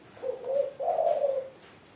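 A spotted dove (tekukur) gives two soft, low, hollow coos close by, the second one longer, with only quiet room tone around them and no talking.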